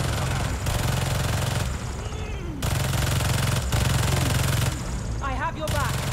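Sustained rapid turret gunfire in the Spider-Man 2 video game, a loud continuous mechanical rattle broken by brief pauses, with swooping effects layered over it.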